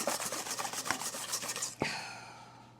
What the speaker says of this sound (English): I'm going to just whisk this for a while